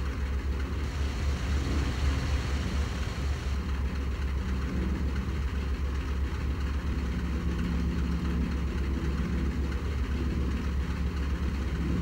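A steady, droning An-2 biplane engine in a video game hums at a constant pitch throughout, loud and close, with no voices.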